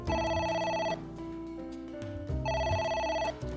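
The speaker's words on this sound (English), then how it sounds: "A phone." Telephone ringing in the video game AI: The Somnium Files, two bursts of bright trilling electronic rings separated by a stretch of game music, loud and close with no talking.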